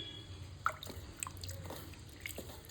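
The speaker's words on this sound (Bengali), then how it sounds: "এটাকে এখন ভালো করে পরিষ্কার করে ধোবো মাছগুলোকে।" Boiled dried fish washed and rubbed by hand in water, giving soft close drips, squelches and splashes over a steady low background hum, with no one talking.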